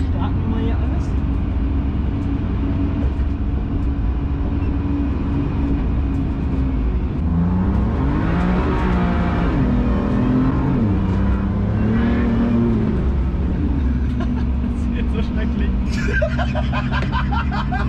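A 580 hp BMW M2 engine idles and then revs, with rising and falling pitch sweeps in the middle, heard from inside the car while people talk and chatter over it.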